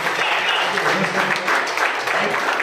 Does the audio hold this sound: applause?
yes